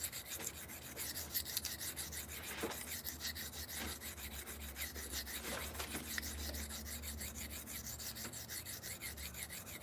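A badly beveled knife is sharpened on a whetstone, a steady rhythmic rasp of steel stroking back and forth across the stone, faint and close with no voices.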